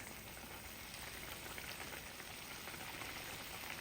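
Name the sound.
fish being added to a frying pan, sizzling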